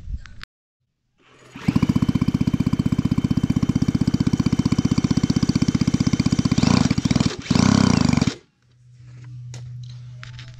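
Peugeot Buxy scooter's small two-stroke engine, freshly cleaned carburettor, runs loud and close with a fast buzzing pulse, revving briefly before cutting off, leaving a quieter low hum.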